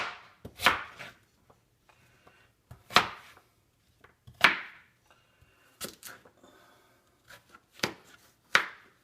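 A knife chopping sweet potatoes (yams) into cubes on a cutting board, with sharp, close thuds that come in irregular clusters with pauses between them and no talking.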